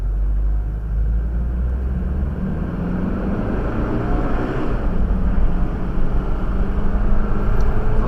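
A car with an SP9 engine driven flat out, foot to the floor, roars in a steady, loud, sustained drone throughout with wind noise, no throttle controller fitted.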